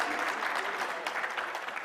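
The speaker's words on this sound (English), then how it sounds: "Clap your hands for Mr." A business forum audience gives a brief round of applause, an even, continuous patter of many hands clapping that lasts only a couple of seconds with no speech on top.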